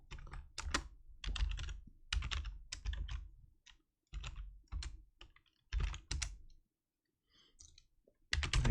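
Bursts of fast typing on a computer keyboard, close and clear, with short pauses between runs of keystrokes and no voices.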